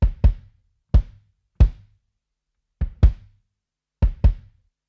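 Kick drum captured by a Rode tube microphone, struck seven times in an uneven pattern of single hits and quick doubles, each a deep, punchy thump with a short boomy tail, close and dry with no talk.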